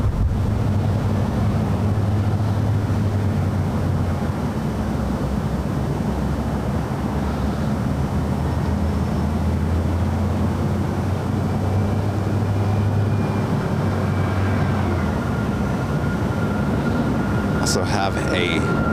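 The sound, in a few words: Aeromexico Dreamliner jet taking off from runway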